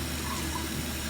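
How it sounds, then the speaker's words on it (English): A face cloth being rinsed under a running tap: a steady close stream of water splashing into a sink, with no talk. "I'm going to rinse it really well"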